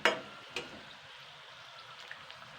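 Bihari khasta thekua frying in hot oil gives a soft, steady sizzle with faint bubbling, punctuated by a couple of brief crackles near the start.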